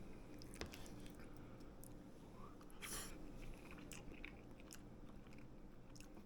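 Someone bites into and chews hamburger bacon casserole, close, soft, moist mouth sounds with small crunches and squishes, faint and irregular over several seconds with no talking.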